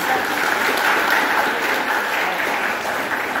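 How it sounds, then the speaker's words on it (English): A seated audience at a literary award ceremony applauds the lighting of the ceremonial lamp, a steady, dense wash of many hands clapping close by, holding evenly throughout without pause. "Sri Thajam Aboh to have a big round of applause for the lighting of the lamp"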